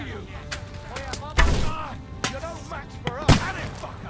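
Cannon and gunfire boom through a battle in Kingdom Come: Deliverance II, several heavy blasts thudding near and far with shouted voices over the fighting.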